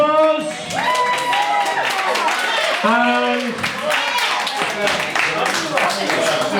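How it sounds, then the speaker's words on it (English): An audience claps at a comedy hypnotist show in the Cellar Bar, Caldicot, with steady, close clapping running under a voice speaking throughout. "Give him a round of applause."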